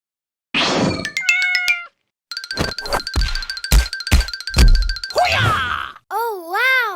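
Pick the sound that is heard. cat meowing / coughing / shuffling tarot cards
cat meowing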